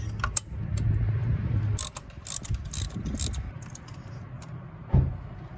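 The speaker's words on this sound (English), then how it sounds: "let's pull out the spark plugs now" Spark plugs being worked out of a Mitsubishi Montero Sport engine, close-up metallic ratcheting and clicking in short bursts with pauses, a sharp clank near the end.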